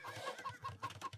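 Chickens cluck in a real-time strategy game, a rapid run of soft, faint clucks repeating in quick succession with no voices over them.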